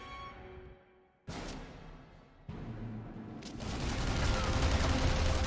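Gunfire in The Saboteur video game: bursts of shots cut in abruptly, then build into sustained, dense, loud firing that fills the final seconds, with no speech.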